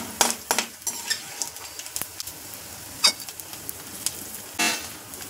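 Edible gum (dink) fries in a pan for methi laddoo, a soft continuous sizzle broken by scattered clicks and scrapes of stirring, fairly quiet and close, with no talking.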